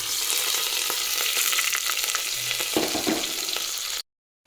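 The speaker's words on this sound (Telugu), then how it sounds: "కొద్దిగా మంచిగా ఫ్రై చేసుకుందాం ఫ్రెండ్స్ ఇందులోకి అలానే ఈ ఎర్రగడ్డ అయితే వేసేస్తాం" Red onions fry in a pan with a steady, bright sizzle and occasional stirring scrapes and pops, close and continuous before cutting abruptly to silence.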